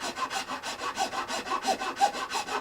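Rhythmic rasping strokes of a file on the nut of a Martin D42 acoustic guitar, steady back-and-forth scraping at a close, moderate level with no voices.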